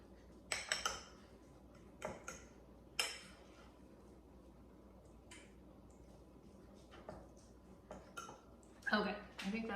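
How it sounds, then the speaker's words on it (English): A fork mashes dried parsley into soft garlic butter in a home kitchen, giving scattered sharp clicks and scrapes against the bowl, clustered at the start and end with quieter stretches between. "Take a fork and mash it in."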